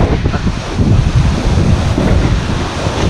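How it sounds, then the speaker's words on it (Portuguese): Rough, violent surf at high tide off Boa Viagem beach in Recife, a steady broadband roar of breaking waves with gusty wind buffeting the microphone, constant and fairly loud throughout. "O mar tá violento, hoje ele tá, a maré tá cheia"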